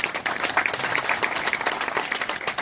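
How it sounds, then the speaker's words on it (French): Applause for Michel at a French municipal election candidate presentation, a steady, moderately loud room of clapping hands with distinct individual claps throughout. "On peut l'applaudir."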